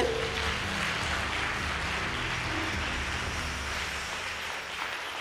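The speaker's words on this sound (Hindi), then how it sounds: "क्या आप ऐसे परमेश्वर के लिए ताली नहीं बजाएंगे?" A church congregation claps for God, a dense, even patter of many hands that holds steady and fades slightly, with no voices over it.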